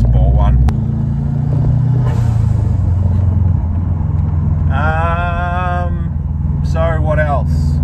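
A Subaru GC8 with a VF23 turbo idles and runs steadily, a low continuous engine rumble close by, with people talking over it throughout.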